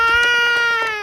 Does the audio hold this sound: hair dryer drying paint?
no